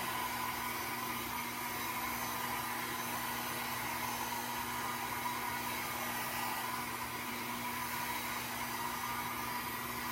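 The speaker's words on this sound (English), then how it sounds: "I'm using a little mini travel dryer." A mini travel hair dryer blows steadily up close, a constant whirring hiss with no breaks.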